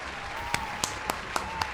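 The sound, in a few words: applause sound effect from streaming soundboard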